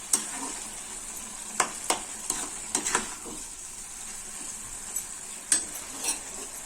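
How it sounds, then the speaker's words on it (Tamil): Potato masala sizzles in a frying pan while a spoon stirs it, with a steady frying hiss broken by scattered clicks and scrapes against the pan. "பண்ணி வச்சிருக்கிற உருளைக்கிழங்கு இதுல சேர்த்துடலாம்."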